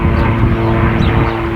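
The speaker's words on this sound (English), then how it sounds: "If you're wondering what that noise is, that's a gyrocopter." A gyrocopter flies near an airfield, its continuous low propeller and engine drone loud and steady throughout.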